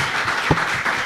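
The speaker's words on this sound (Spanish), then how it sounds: "los varones, les vamos a dar un aplauso a las mamás" A church congregation applauds the mothers in a brief burst of dense, steady clapping that fills the room.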